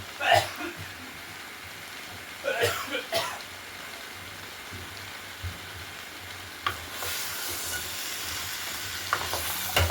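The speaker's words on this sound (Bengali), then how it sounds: "ভালো করে সবজিগুলোকে সাথে মশলার সাথে মিশিয়ে নিতে হবে" Mixed vegetables with radish being stirred into spices in a frying pan for a dried prawn (chingri shutki) curry, giving soft scraping stirs and a low sizzle in separate bursts, with quiet talk between them.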